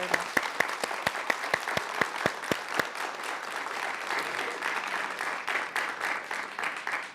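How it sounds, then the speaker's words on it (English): Audience applause at a book talk on the social life of DNA: a few sharp, separate claps at first, then a dense, steady roar of clapping from the whole room that holds to the end. "Let's give her a round of applause."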